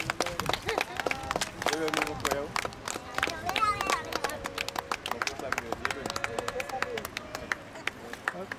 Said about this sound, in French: Même les gens en face ont applaudi.